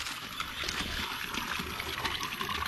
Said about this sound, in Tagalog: Uy, napoy tubig din nagagas.